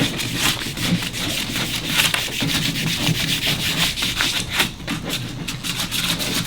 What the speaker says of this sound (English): Work your way around, sand all the sides.